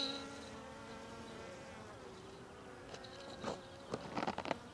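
Honeybees buzz around a hive during a hive split, a close, steady droning hum of many wings with brief louder passes as individual bees fly near.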